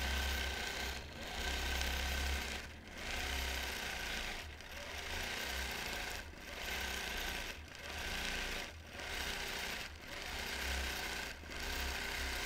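A sewing machine runs in steady bursts while free-motion quilting oak leaf shapes into a quilt, its rapid mechanical stitching rising and pausing roughly every second or two, close and alone.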